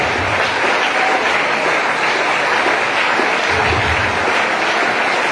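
A church congregation claps together during a sermon, a steady, dense wash of applause that fills the room evenly and stays loud from start to finish.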